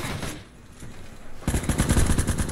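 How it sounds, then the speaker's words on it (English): A 20 millimeter machine gun, the secondary gunner weapon on a battle tank in the game Base Wars, opens up after a subdued lead-in with a rapid, evenly spaced stream of loud, close shots that keeps going to the end, with no talking. "the 20 millimeter machine gun I think is the best all round"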